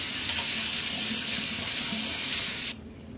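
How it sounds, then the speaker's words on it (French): Water from a tap runs steadily into a sink for about three seconds while a face is being rinsed, then cuts off abruptly and leaves only faint room sound. "Et après je rince."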